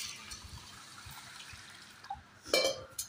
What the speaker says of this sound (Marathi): आता मी याच्यामध्ये पाणी ओतणार आहे।